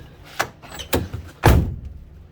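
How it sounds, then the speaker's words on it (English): Door of a 1953 Pontiac barn-find car shut three times in quick succession, each a solid, close thunk, the last the heaviest. "And listen to that door close."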